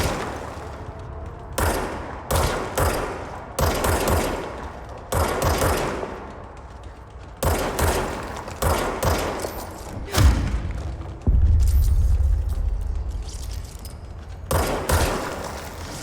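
Enemy gunfire in the video game Control: repeated loud bursts of automatic fire and single shots, with heavy thuds, separated by short pauses and followed by a longer rumbling barrage near the end.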